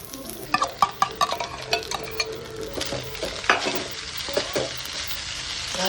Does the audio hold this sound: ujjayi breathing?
no